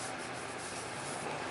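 Beeswax and linseed oil finish being rubbed by hand onto wood: a steady, close, dry rubbing hiss that continues evenly throughout, with no voices.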